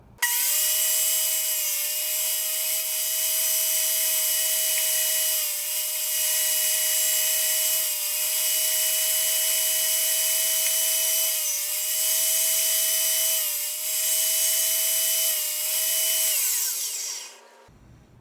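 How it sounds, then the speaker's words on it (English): A power tool whines steadily while cutting finger joints in wood for cutting boards, a loud sustained high-pitched drone with slight dips in pitch, running alone until it stops near the end. "I can now start finger jointing all the other pieces together too"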